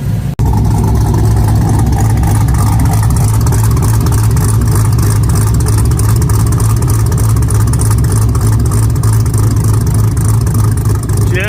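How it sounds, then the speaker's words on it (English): An LS-swapped third-generation Camaro's exhaust rumbles close and loud at a steady idle, a deep throbbing drone with a faint lope running unbroken throughout. "So I want you to hear the exhaust now."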